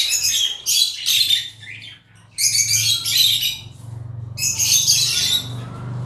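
African lovebirds in a cage chirp and squawk in bright, rapid bursts, three main flurries separated by short pauses, close by and lively, over a low background rumble.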